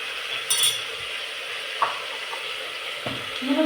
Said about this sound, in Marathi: एक दोन मिनिट परतू द्या ह्याला